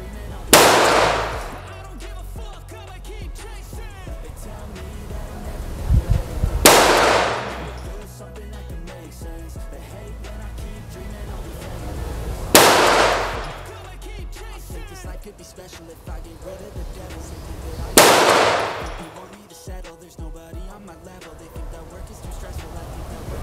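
Four loud, sharp gunshots from a Ruger 10/22 rifle fired outdoors, spaced about six seconds apart, each with a brief ringing tail, while people talk quietly between shots.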